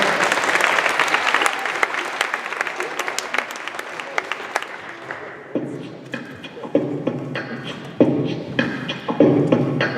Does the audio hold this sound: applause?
yes